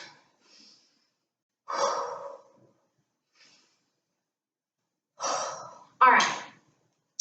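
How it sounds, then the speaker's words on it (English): A few deep breaths during a fitness warm-up come as separate airy inhales and exhales, some louder and closer, with quiet gaps between them. "Take some deep breaths."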